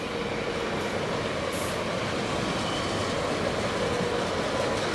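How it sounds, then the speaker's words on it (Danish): A Copenhagen S-train rumbles through Østerport station, a continuous loud roar of wheels and rail noise with a brief high squeal, close by and without speech. "Her har vi S-toget."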